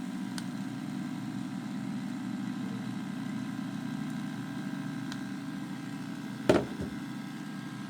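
A pulse motor with a litz wire coil spinning at about 2,000 RPM on 25 volts, a steady, smooth electrical hum with a fine rapid pulsing texture throughout, broken once by a brief sharp knock.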